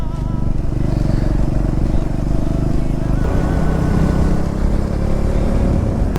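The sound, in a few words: Triumph Scrambler 400 motorcycle riding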